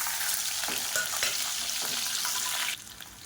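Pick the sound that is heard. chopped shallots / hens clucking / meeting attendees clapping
chopped shallots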